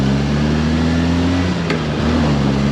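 Manual-transmission car engine holding a steady low drone after a downshift into first gear, with a slight pitch dip near the end, close and continuous.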